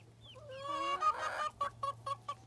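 Layer chicks and full-grown hens cluck and call in an outdoor garden run, a mix of higher honking cries and a run of short, moderately loud clucks over a low steady hum.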